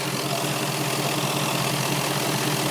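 A 2003 Mercedes ML 400 diesel engine idles cold just after starting, a steady, even, close-up rumble with faint ticking, and no voices over it.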